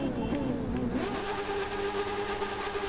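A BMW S1000 motorcycle engine in The Crew 2 racing game, revving hard and holding a high, steady whine as it accelerates, loud and continuous, with a voice talking over it near the start.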